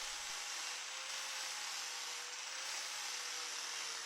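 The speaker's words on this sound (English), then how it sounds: "just getting down at the tip of the bar with the flap wheel" Flap wheel on an angle grinder working steel plate near the edge of a 1980 Opel Kadett rally car body, producing a continuous bright, hissing abrasive grind with a steady motor tone, unbroken and without talk.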